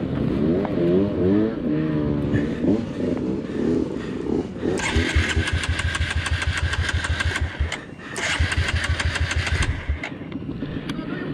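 A dirt bike on a trail is cranked repeatedly with the throttle held wide open. It sputters, then bursts into loud, rapid revving close by, dips briefly, and roars again.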